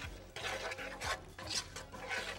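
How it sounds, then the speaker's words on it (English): Seasoning mix for stuffing stirred quickly in a bowl, a run of scraping, rasping strokes in an uneven rhythm, close and fairly quiet, with no voices. "Now give that a quick stir."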